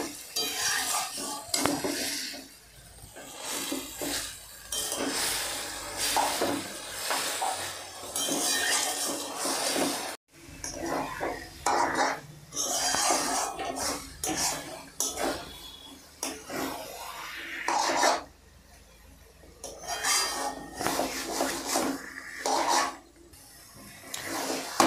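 Green banana pieces frying in oil in a pan, stirred with a utensil as a steady sizzle runs underneath; scraping, clinking strokes come in repeated bursts with brief pauses, close and fairly loud.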